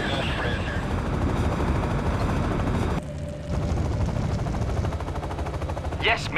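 Aircraft launch in the video game Act of War: Direct Action: a steady, loud mechanical roar with rapid rattling bursts like helicopter rotors and gunfire throughout, a brief dip midway, and a short high whine near the end.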